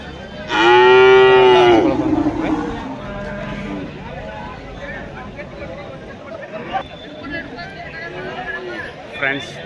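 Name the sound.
Javari cows mooing at a cattle market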